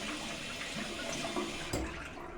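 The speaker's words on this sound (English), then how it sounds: "I take the brush and clean it off just under warm tap water" Warm tap water runs steadily over a shaving brush as it is rinsed, a continuous broadband splash and trickle with a brief thump partway through.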